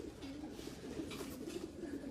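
A young racing pigeon hen coos softly in a loft, low repeated coos over faint background hiss.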